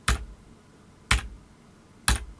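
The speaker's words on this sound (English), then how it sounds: "if I hit X on the keyboard, will switch from black to white and back again" X key pressed on a computer keyboard, three crisp separate clicks about one second apart, close and alone.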